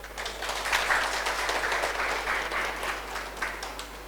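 An indoor audience at a talk applauds, a dense, even wash of clapping from many hands, sustained at moderate volume throughout without any voices.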